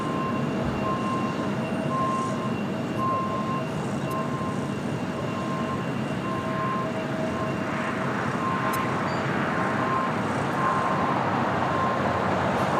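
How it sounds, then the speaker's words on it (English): Philippine Airlines Boeing 777-300ER taking off at Los Angeles International Airport, a broad, continuous engine roar with a steady rumbling spread, moderately loud and constant throughout, with faint tonal whines and no talk. "Next takeoff is Philippine Airlines Flight 113 at the 777 at 300ER."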